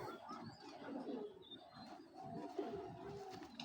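A big female Giribaz pigeon of the Military variety coos softly among other birds, with low, rolling calls repeating at moderate, close range throughout.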